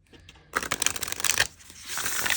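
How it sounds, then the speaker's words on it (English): Small deck of 37 playing cards shuffled sideways by hand, a quiet riffle start followed by a dense, loud burst of flicking and rustling that tapers into a softer hiss, close up with no talking. "I think I'll definitely shuffle these sideways because my hands are so small."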